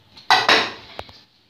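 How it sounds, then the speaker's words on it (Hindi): Rice tipped into a pot while layering chicken biryani, two quick close scraping clatters of a utensil on metal followed by a couple of lighter taps. "अब इसमें चावल डालेंगे दोबारा से।"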